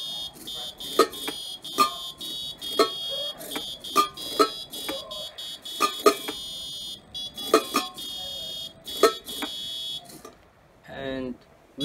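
An electronic buzzer sounds a high, steady tone with repeated sharp pulses at a regular beat, ending abruptly before a short burst of noise.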